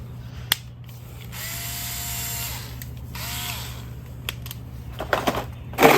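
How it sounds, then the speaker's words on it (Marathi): A handheld electric screwdriver runs in two short bursts with a whirring motor tone, surrounded by clicks and handling knocks over a steady low hum. "हा एक इलेक्ट्रिक स्क्रूड्रायव्हर म्हणू शकतो तो आहे"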